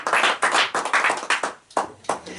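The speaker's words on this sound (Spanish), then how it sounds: "Denle un aplauso fuerte al Señor en esta mañana." Congregation clapping hands in a church service, a dense burst of applause that swells and dips in waves, pausing briefly near the end before resuming loudly.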